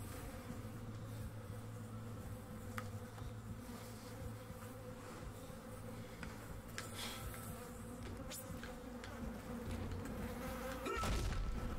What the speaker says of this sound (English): to your point about the fly buzzing sound